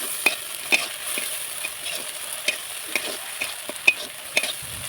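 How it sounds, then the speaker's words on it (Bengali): Onion with coriander-cumin paste frying in a pan and being stirred, with a soft sizzle under a series of crisp, regular spatula clacks against the pan. "নাড়তে থাকবো"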